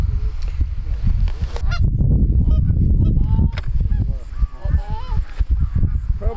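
A flock of early-season geese honks loudly and close by in overlapping calls during a goose hunt in New York, with a few voices briefly heard among them.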